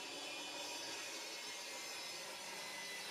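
A saw cuts through a plywood sheet for a tool storage rack, producing a dense, continuous rasping buzz close by, without pauses or voices.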